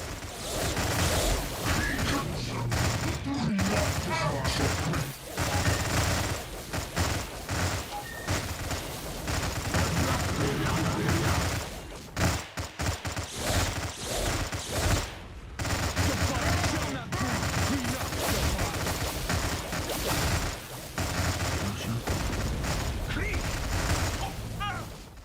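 A defense turret opens fire in the Stargate Empire at War battle game: a dense, continuous barrage of rapid gunfire and explosions, loud and sustained with only brief gaps, while a voice talks over parts of it.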